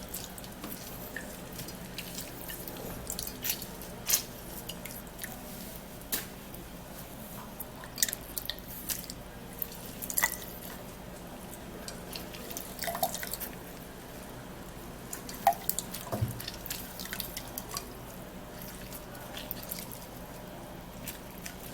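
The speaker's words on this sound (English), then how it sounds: "our orange juice is sieved, strained" Orange juice drips and trickles through a sieve, producing soft, irregular wet taps and squishy splashes up close, spaced unevenly over a quiet background.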